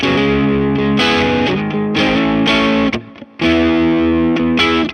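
Overdriven electric guitar through an overdrive pedal, playing sustained, gritty chords, loud and close, with a brief drop in the middle before the strumming resumes.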